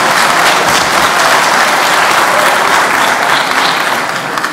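Loud, dense clapping from a town hall audience at The Colony High School, close and continuous throughout, with no talking over it.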